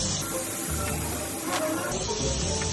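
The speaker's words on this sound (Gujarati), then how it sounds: "વેજીટેબલ છે એને આપણે સાંતળવાના છે." Mixed vegetables sautéing in melted butter over a low gas flame give off a steady, close hiss and sizzle with faint scraping stirs, no talking.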